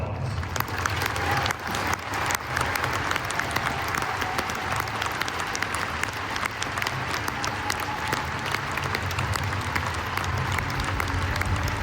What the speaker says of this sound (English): Please show your support for the players, coaches, and officials with a round of applause.